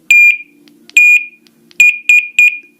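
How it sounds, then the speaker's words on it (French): A Dogtra 2602 T&B dog beeper sounds sharp, loud electronic tones at power-off, with the final three close together in a quick triple, alone with no voices. "jusqu'à entendre les 3 bips qui signalent que votre beeper est éteint"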